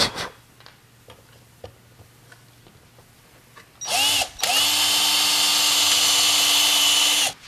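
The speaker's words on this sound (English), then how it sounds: "I've got a little countersink bit mounted there." Power drill spinning a small countersink bit into track saw hardware, a loud sustained whine starting after quiet ticking, briefly stopping then running steadily to the end, close and alone.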